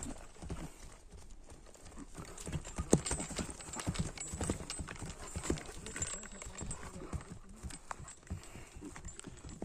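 A kok-boru horse walks nearby with steady, close clip-clop hoofbeats on hard ground while people talk in the background.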